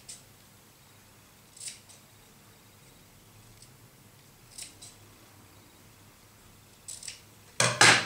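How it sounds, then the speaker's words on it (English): Scissors snip through a layer of black fabric in a few sparse, crisp cuts spread out with pauses between them, close and fairly quiet, ending in a louder burst of rustling snips. "I'm going to cut an X."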